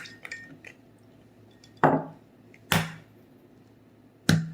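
Eggs are cracked one at a time against a bowl for a strawberry gelatin cake, three sharp, distinct cracks spaced about a second apart in an otherwise quiet kitchen, with faint light clinks before them.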